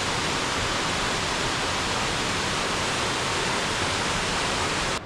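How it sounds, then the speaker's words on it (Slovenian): A waterfall on the Mrzli potok stream in the Posočje valley roars with a loud, dense, unbroken rush of falling water, heard up close and alone. "Tale čudovit slap."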